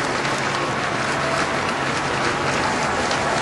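Crowds lining both sides of a funeral procession route applaud steadily, a dense, continuous wash of clapping at moderate distance with no break across the moment.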